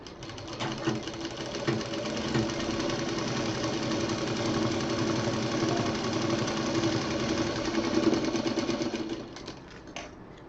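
An electric sewing machine stitches seams on a round cushion, a steady fast rattling drone running close and unbroken for about ten seconds before slowing to a stop.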